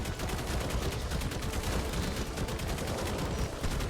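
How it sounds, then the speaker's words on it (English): Rapid gunfire in ARK Survival Evolved on the Fjordur map, a dense continuous volley of shots with no gaps, loud and steady across the whole stretch. "Let's keep shooting."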